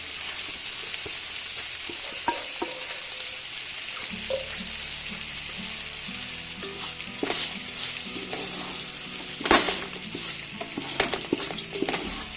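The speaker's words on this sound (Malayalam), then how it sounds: "ഈ റൈസിനെ ഇതിലേക്ക് ഇട്ട് കൊടുത്ത് നല്ലതുപോലെ ഈ ഒരു കൂട്ടുമായിട്ട് അതിനെ യോജിപ്പിക്കുക." Rice is stirred into a sizzling peri-peri spice mix in a pot for chicken mandi, with repeated scraping and clinking strokes over a constant frying hiss, loud and close.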